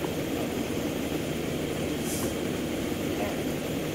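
A plane's engine drones steadily and loud, a constant broadband roar through the whole stretch in the military shooter game Arma 2, with no break in the noise.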